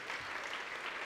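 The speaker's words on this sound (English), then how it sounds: "Everyone, give them a round of applause." Applause from an indoor audience at a SheCommerce business talk in Barcelona, a short burst of steady, fairly faint clapping with no voices over it.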